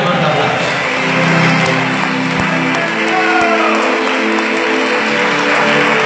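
A church congregation at the start of a worship service breaks into loud, sustained applause with cheers and whoops, a full crowd sound filling the room for several seconds.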